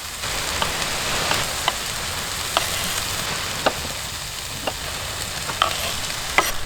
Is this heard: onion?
yes